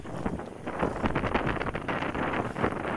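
Steady south wind buffeting the microphone on a beach, a loud continuous rush with gusty surges and no voices.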